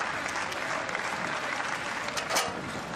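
Home crowd applauding steadily at an athletics high jump competition, broad sustained clapping filling the stadium with a brief swell near the end and no clear talk.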